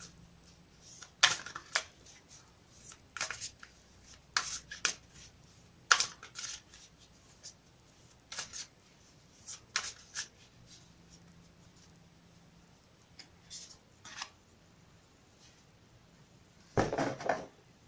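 Quiet room with bursts of shuffling a tarot or oracle card deck: quick riffling flutters and taps at irregular intervals, ending in a longer, louder riffle.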